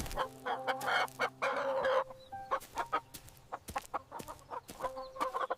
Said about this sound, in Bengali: আবার সেই মুরগির অ্যালার্ম বেজে গেল